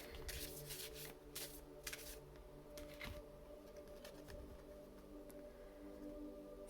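Large animal oracle cards shuffled and handled by hand, a run of soft papery riffles and slides in quick bursts over a faint steady room hum, close and quiet, with no talk.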